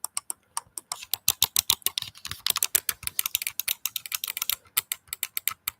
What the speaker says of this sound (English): I do have this lovely computer mouse, which I think kind of gives like a somewhat similar keyboard type of